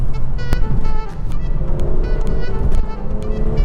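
A BMW M240i xDrive accelerates hard, its engine note loud and sustained throughout with a steady rising roar and a few sharp transient clicks, close and continuous without pauses.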